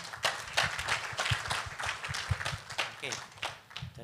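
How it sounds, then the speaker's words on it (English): Audience applause at a lubricants industry forum, a scattering of claps mixed under a nearby announcer's talk, moderately loud and uneven throughout. "Ya, jadi kita kasih applause dulu untuk Mr. Nielsen Tam."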